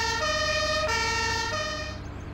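A two-tone Italian carabinieri police siren sounds in Farming Simulator 17, alternating pitches loud and steady over a low vehicle rumble before fading out at the close.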